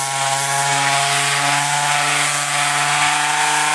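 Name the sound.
power sander sanding rusty tractor frame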